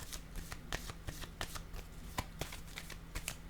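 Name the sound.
tarot card being laid down on table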